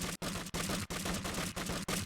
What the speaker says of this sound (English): That's all he does. Just fires the guns.